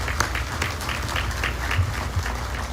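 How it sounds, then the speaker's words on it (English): An audience applauds the event team at the commissioning ceremony of the USS Mobile, a steady crowd clapping that fills the space throughout without letting up. "I want to give you a round of applause for what you do for us"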